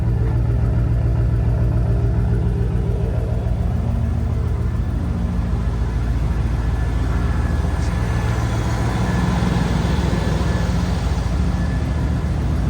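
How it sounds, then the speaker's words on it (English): A big block manual Chevy truck from the 90s, fire-scorched, rumbles at steady idle close by, a dense low engine drone with little change in pitch and no clear rev rise. "Let's give it some revs now that it's run for a second."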